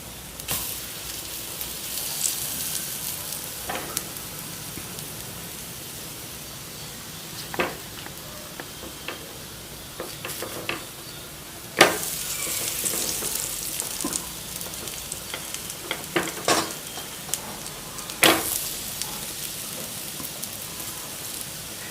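Potatoes and spinach fry in a pan over low heat with little oil, a steady close sizzle running throughout, broken by occasional sharp scrapes and clicks as the mixture is stirred and turned.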